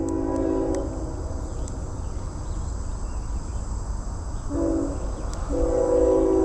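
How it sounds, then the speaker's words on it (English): A train passes near a fishing spot by the water, a steady loud rumble with bursts of tonal horn-like sound near the start and again toward the end, with insect chirping high above, and no talking. "you can hear the train really good at this spot"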